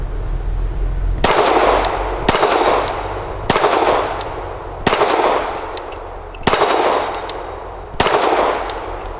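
Canik SFx Rival S pistol firing PMC Bronze 115 grain ammunition, six loud, sharp shots spaced roughly a second or more apart, each with a ringing decay, no talking.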